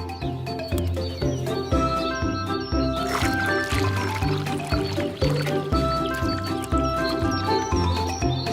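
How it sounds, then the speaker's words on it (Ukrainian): Clean fruit such as oranges, bananas and pears scooped from water with a small net, producing close, wet splashes and drips layered over a bright, busy children's musical background. "Чисті фрукти можна дістати із води сачком."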